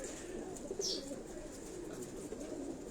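Breeder pigeons cooing inside a rooftop cage, a steady low murmur of overlapping coos with a brief brighter chirp near the middle and no talk.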